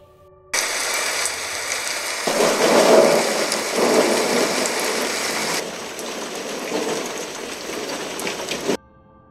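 A thunderstorm with heavy, steady rain and strong wind, with a rumble of thunder swelling early on. It stays loud and continuous for most of the clip, then cuts off abruptly. No voices are heard.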